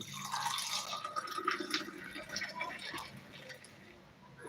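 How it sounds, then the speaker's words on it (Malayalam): Tea pours and splashes into a white glass with a soft, bubbling trickle, ending with a brief louder clink or knock. "ആ വെള്ള ഗ്ലാസ്സിലേക്ക് ഇതാ ഒഴിക്കാൻ പോയത്"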